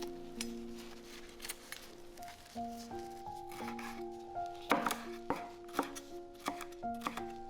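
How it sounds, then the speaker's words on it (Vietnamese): A knife chops horn chili and bird's eye chili peppers on a board, giving quick irregular taps over steady background music. "Cắt nhỏ ớt sừng và ớt chỉ thiên"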